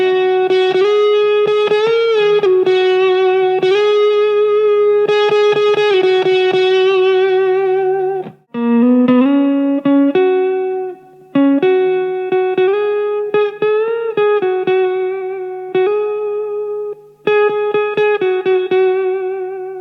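An electric guitar fitted with newly swapped pickups plays a series of picked notes and short chord phrases, bright and sustained with a touch of effect, loud and alone.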